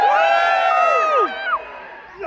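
Audience at a Butlins show in Minehead cheering, a burst of high whoops and shouts from many voices that fades quickly into scattered calls.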